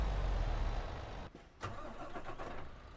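A MAN TGX truck engine in Euro Truck Simulator 2 rumbles loudly, hauling an oversized load, then drops away briefly before catching again with a rising roar and steady running, no talking.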